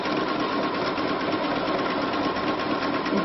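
A sewing machine stitching with a transparent fringe foot, a steady, loud, continuous whirring hum with a fast mechanical patter running unbroken throughout.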